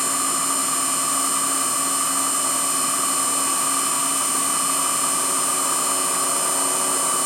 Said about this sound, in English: It's now going to drill through the complete shaft.